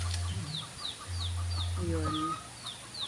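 Chickens cluck repeatedly in a farm garden, with short bird calls scattered throughout and a steady low hum in the background. A person speaks briefly near the middle.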